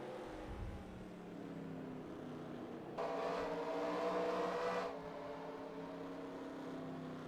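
Race cars in the NASCAR Racing 2003 video game at Watkins Glen, a steady engine drone with a louder, brighter surge of passing cars in the middle, continuous and without talk.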